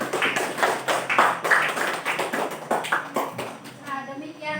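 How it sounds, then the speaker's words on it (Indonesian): A class of schoolchildren claps their hands together for a group, a quick burst of many overlapping claps close by, with some voices mixed in. "Tepuk tangan pada kelompok."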